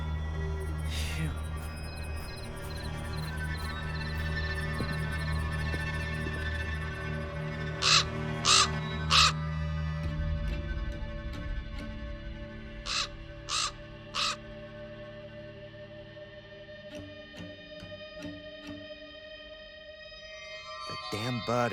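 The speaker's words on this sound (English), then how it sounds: "The damn bird again." A crow in the Black Mirror 2 video game caws in two bursts of three sharp calls, clear and fairly loud over a low ambient game drone.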